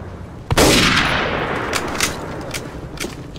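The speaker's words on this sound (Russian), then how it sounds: "Пулемет вокруг откуда-то бьет, не видел." Gunfire erupts in Day of Defeat: Source, a World War II shooter game, with a sudden loud blast followed by a sustained rattling roar and scattered further shots fading in the background.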